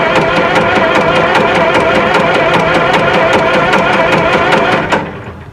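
A 1920s engine with a White magneto runs loud and steady with an even, rapid firing rhythm, close by, then is cut and dies away in the final half second.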